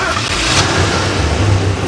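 A Mercedes car engine starts up and runs with a low, steady rumble for about two seconds, loud and close, heard in a comedy movie trailer played on the radio.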